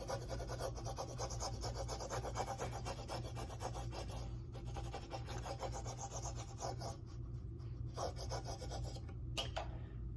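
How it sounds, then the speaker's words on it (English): A scraper smooths vinyl down onto a wooden porch sign, making a steady, quiet rasping and rubbing close by, with brief pauses near the end. "I'm going to smooth it down, come in with my scraper again."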